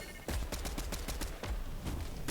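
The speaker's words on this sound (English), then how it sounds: "More shots on the side." Rapid gunfire rattles in quick bursts during a battle royale video game match, fairly close and dense, with a sharp burst near the start and steady shots through the rest.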